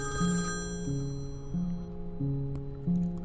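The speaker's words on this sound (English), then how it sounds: "I heard my alarm clock ringing every morning and got up." An alarm clock rings in a repeating two-tone trill, four short bursts in an even rhythm, close and clear over faint background sound.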